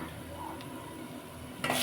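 Soft continuous sizzling of a dal tempering in a pan, close and fairly quiet, with a brief brighter burst of crackle at the end.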